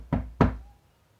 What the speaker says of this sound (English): Alice went timidly up to the door and knocked.